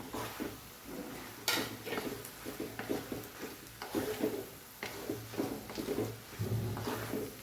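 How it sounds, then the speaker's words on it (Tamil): Okra sautéing in oil in a pan, with a steady crackle and occasional clinks and scrapes of a utensil stirring, close by and without talk. "இந்த ஆயிலே ஒரு 2 நிமிஷம் வதங்கட்டுங்க வெண்டைக்காய்"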